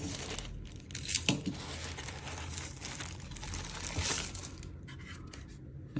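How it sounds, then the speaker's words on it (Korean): Plastic wrap is torn open on the box of an M100 mini PC, giving close crinkling and tearing with a few sharp rips amid rustling handling noise. "이 비닐로 쌓여져 있는데 비닐을 뜯어서 제품을 한번 열어보겠습니다"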